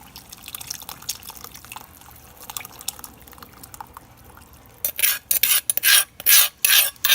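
Rice slurry is poured into a simmering Lao-style beef oxtail stew, giving a loud rushing, splashing pour in several bursts after a quieter stretch of faint kitchen clatter.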